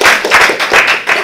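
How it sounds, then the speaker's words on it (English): A small audience at a Toastmasters club meeting claps together, a brief burst of close, dense hand claps in quick pulses with no talking. "I think that deserves a really wonderful round of applause."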